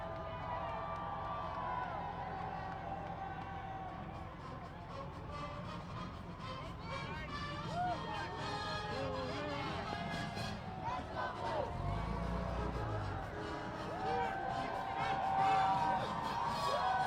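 Parade crowd celebrating Michigan football's national championship win, a dense distant roar of cheering, whoops and babble that swells and fades, with a commentator talking over it throughout.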